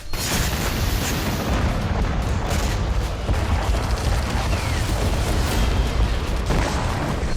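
Continuous heavy booming and blasts from North Korean weapons tests, loud, dense, overlapping explosions rumbling without pause.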